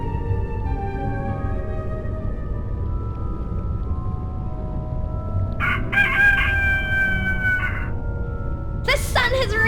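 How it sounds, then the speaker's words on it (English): Rooster crowing from a toy animal wheel in the game A Vampyre Story, a shrill cock-a-doodle-doo rising over music, with a second burst at the end and a voice talking underneath. "The sun has risen and the rooster crows."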